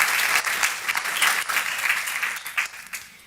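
Enthusiastic crowd applause at a church service, dense clapping with rhythmic surges, loud and continuous throughout.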